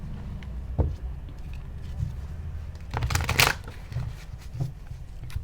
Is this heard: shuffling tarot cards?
yes